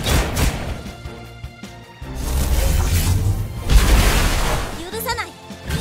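Rapid full-speed shooting attack in the mobile game Idle Huntress, a dense burst of booming shots, whooshes and crashing impacts over a steady music bed, loud and continuous across several seconds.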